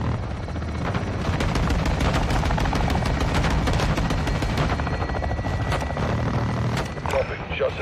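Helicopter gun run in Call of Duty: Modern Warfare 2 (2022), with dense bursts of rapid gunfire and booming impacts over a constant rotor roar, loud and sustained throughout.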